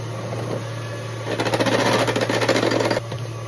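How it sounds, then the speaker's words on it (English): Electric mixer whisking cake ingredients for a sponge until pale and creamy, a close, steady motor whir that rises and buzzes for about a second and a half before stopping, with no talking. "We're going to whisk these together."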